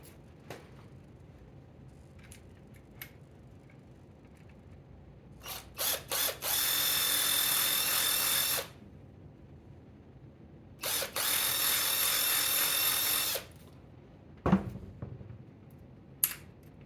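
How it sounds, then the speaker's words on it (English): A drill bores through Williams single drop target plastic for a pinball machine in two sustained bursts of whirring, about three and two and a half seconds long, with scattered small clicks and clunks between them and a sharp knock near the end. "This drill bit is not very sharp."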